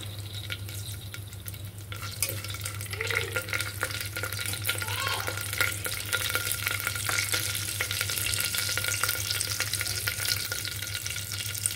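Whole biryani spices such as cardamom, cloves, bay leaf, shahjeera and mace fry in hot ghee, giving a continuous close sizzle and crackle with occasional stirring, over a steady low hum.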